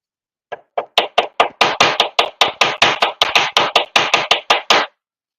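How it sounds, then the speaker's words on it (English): A nylon hammer taps wire resting on a nylon block. The blows come loud and close, about twenty sharp strikes in an even, quick rhythm that stops abruptly, with no talking. "I use the nylon hammer and a nylon block because I'm not trying to flatten the wire."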